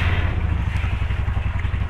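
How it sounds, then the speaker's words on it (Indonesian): Steady close engine idle from a 2008 Yamaha Mio Sporty scooter just started, with a low rhythmic putter and some mechanical clatter, running alone without speech. "Motor kesayangan Mio Sporty ini 2008. Langsung kita nyalakan ya."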